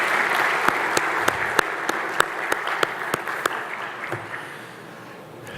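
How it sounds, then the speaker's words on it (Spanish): Audience applause at a Mexican event on NAFTA modernization, steady clapping that holds for several seconds, with a few louder individual claps on top, then gradually tapers off. "Les pido un aplauso para todos ellos."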